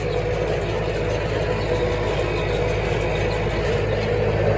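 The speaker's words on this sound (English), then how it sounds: "I think I've settled on low 3, the tractor RPM around 1500 rather than 17." Tractor engine held near 1500 RPM while running a hay baler in the field, a steady, even mechanical drone with rhythmic low thumping and no talk.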